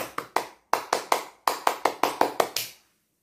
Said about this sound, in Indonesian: Satu kali tepuk pramuka